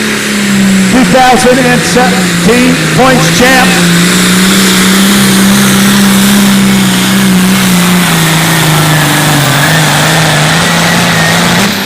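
A Generation 1 John Deere tractor at a light limited pro stock tractor pull revs hard, its loud mid-pitched engine holding a steady drone after a few quick throttle blips, with an announcer talking over it.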